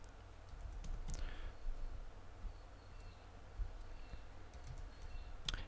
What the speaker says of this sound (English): It's a bit hard to type because I've got the microphone in front of me